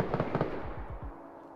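Sharp gunfire bursts ring out near a base in a combat survival video game, a quick cluster of reports followed by several booming, decaying thuds, with no talk over them.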